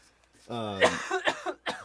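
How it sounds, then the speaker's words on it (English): A person coughs several times in quick succession, close up, with a harsh throaty start followed by shorter bursts. "I'm about to cough again"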